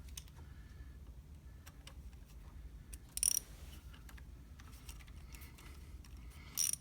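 Torx screws being backed out of a Chevy Cruze coil pack, with quiet ratcheting clicks and two short sharper metallic bursts over a low engine-bay rumble.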